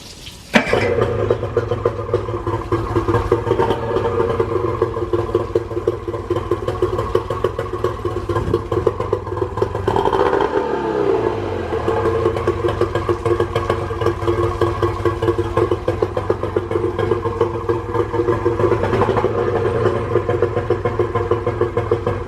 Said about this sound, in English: Typically when you're starting an engine like this, you know, give it some throttle.